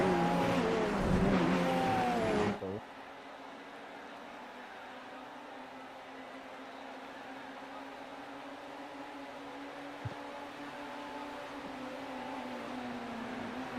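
A race car engine in iRacing on the Monza circuit: a loud engine rev at first, then a steady, fainter drone as the car holds speed through a long curve.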